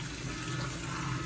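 Cold water running steadily from a tap, a continuous broadband rush and splash at moderate level with no other sounds.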